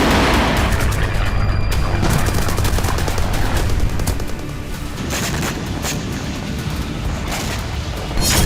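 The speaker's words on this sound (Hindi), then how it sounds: "डोनेस्क में रूसी सेना की रॉकेट आर्टिलरी ने जबरदस्त तबाही मचाई।" Russian rocket artillery and gunfire on a battlefield in Donetsk give a loud, continuous barrage of bursts and booms with sharp cracks near the end.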